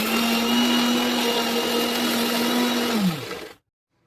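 A mixer grinder whirs loudly and steadily while grinding soaked rice, chana dal, ginger, garlic and spices in its jar, then winds down and stops abruptly.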